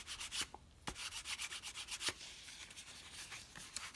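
Rhythmic rubbing strokes as a plastic Airfix Boeing B-17G Flying Fortress 1/72 model surface is polished, a steady series of soft swishes close by with a couple of sharper scuffs, no voices.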